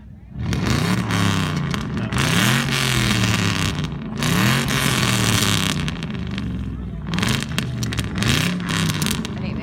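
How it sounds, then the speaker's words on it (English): A classic car's V8 engine revving repeatedly, with loud, close swelling roars in a regular rise-and-fall rhythm about every two seconds and people talking underneath. "You might want to give it a bit of a rev."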